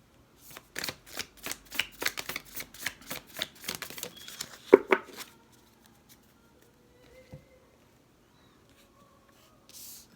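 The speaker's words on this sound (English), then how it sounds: "Pull some cards from the Shamanic Oracle." Oracle cards from a Shamanic Oracle deck riffle and slap in a quick run of close, crisp flicks for about five seconds, then a few soft scattered handling sounds as cards are drawn.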